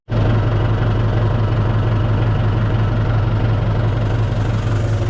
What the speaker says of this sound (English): Carol's gonna get in the tractor here.